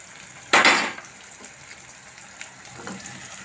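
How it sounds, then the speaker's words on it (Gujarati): Eggplant curry fries in a pan over a low gas flame, a sudden loud sizzle as the pan is stirred, then a quieter crackle with faint utensil scrapes. "શાકને હલાવીને પાછું આપણે થોડીક વખત ધીમા ગેસ ઉપર તળવા દઈશું"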